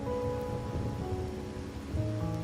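Steady rain falls in the video game Wuthering Waves, a dense continuous hiss with soft drumming on surfaces, accompanied by sustained musical tones, with no voices.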